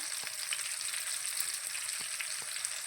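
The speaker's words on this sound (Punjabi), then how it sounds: "ਇਹ ਵੀ ਵਿੱਚ ਹੀ ਤੇਲ ਦੇ ਵਿੱਚ ਭੁੰਨੀ ਜਾਊਗੀ ਲਸਣ ਵੀ ਟਮਾਟਰਾਂ ਦੇ ਨਾਲ ਹੀ" Five or six garlic cloves fry in oil alongside tomatoes for a tomato-onion chutney, giving a steady close sizzle dotted with light crackles and no talking.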